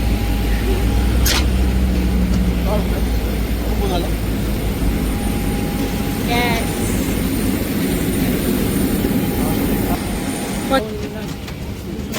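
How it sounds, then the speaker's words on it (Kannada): An airliner departs on a flight from Dubai to Mangalore. A loud, steady engine roar fills the cabin, with a few brief clicks and faint voices beneath it. "ಫ್ಲೈಟ್ ಬಿಟ್ಟಿತ್ತು"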